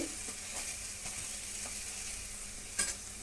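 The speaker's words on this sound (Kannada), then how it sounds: "ಪೂರಿ ಈ ರೀತಿ ಎಲ್ಲ ಡೀಪ್ ಫ್ರೈ ಮಾಡ್ಕೊಂಬಿಡಿ" Puri deep frying in hot oil, a steady close sizzle and crackle that stays even throughout, with a brief louder pop near the end and no talk.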